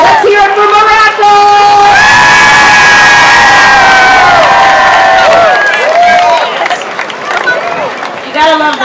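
A crowd at a parade of flags in Cleveland cheers loudly for Morocco, with close whoops, yells and shouting voices layered over clapping in a sustained roar that eases toward the end.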